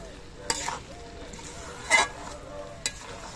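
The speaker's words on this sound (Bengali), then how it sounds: "কিছুক্ষণ বাদে বাদে আবার নেড়ে দিতে হবে, না হলে আবার নিচে লেগে যেতে পারে।" A soft, low sizzle comes from a pan of muri ghonto, a rice dish, while it is stirred, with three brief scraping strokes standing out over the quiet frying.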